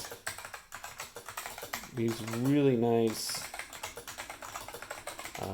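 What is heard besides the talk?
typing on Dell AT101 keyboard with Black Alps switches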